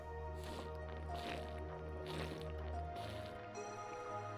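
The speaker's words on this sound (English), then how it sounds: "You can hear me drinking through my water bottle" Someone drinking through a water bottle: repeated wet squishing and sucking gulps in an uneven rhythm, close and fairly quiet over a low background hum.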